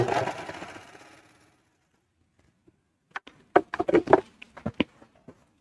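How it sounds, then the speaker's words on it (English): A serger trimming fabric whirs rapidly for about a second and winds down, followed by silence and then a scatter of sharp clicks and taps close by. "on a serger, it's a little different than a sewing machine, so I can serge off of a piece of fabric"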